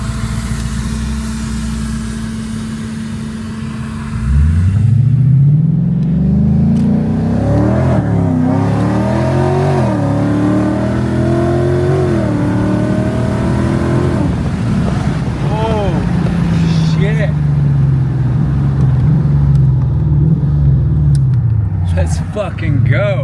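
Inside a supercharged Lexus IS F on its first drive, the V8 revs and accelerates hard. The pitch sweeps up through the gears with a rising whine, then settles into a steady cruise, loud and close, with people talking over it.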